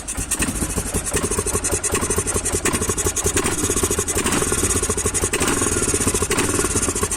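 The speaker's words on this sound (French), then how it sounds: "je vais le démarrer avec la boîte à air ouverte" Loud, rough quad ATV engine idling close by with its airbox open, a continuous throaty rumble with uneven pulsing and no voices over it.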